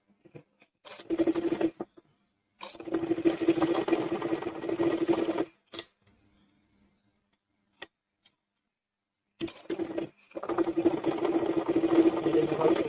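A sewing machine stitching a frock seam runs in close, steady bursts with a fast ticking hum, pausing a few seconds mid-clip with a couple of small clicks before running again.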